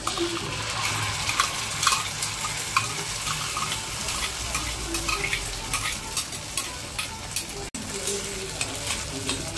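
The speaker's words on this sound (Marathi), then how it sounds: "परतून घेऊया तेलामध्ये" Onion, tomato and ginger-garlic puree sauté in hot oil with a steady close sizzle, broken by repeated scraping stirs of a spoon against the pan and occasional light clinks.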